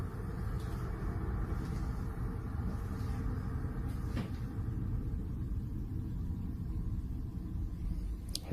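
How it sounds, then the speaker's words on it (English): A car passes outside a house, coming through as a low, steady rumble across the whole stretch with a few faint knocks indoors and no voices. "There's a car going by."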